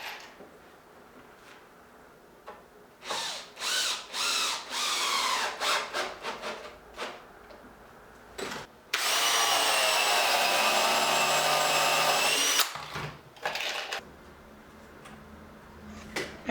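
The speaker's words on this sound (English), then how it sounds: "using my tapered drill bit set for the length of the construction screws, pre-drilling the holes, and then just setting the screws in" A power drill with a tapered bit bores pilot holes and drives construction screws into wood while a mobile woodworking bench is assembled: short whirring bursts, then one long steady high-pitched run of several seconds, followed by a few brief spurts.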